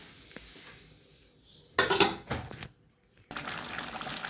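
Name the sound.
opening a pot lid to check cooking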